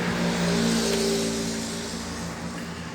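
Microwave oven making a strange noise after being switched on, following a diode replacement: a loud, steady humming drone with a buzzing edge that fades slightly over a few seconds, with no talking.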